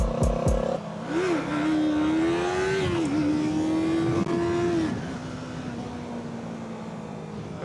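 A Yamaha R3 motorcycle engine revs up and holds a rising whine through rough gear shifts, loud and close, then settles into a lower drone as the pitch drops.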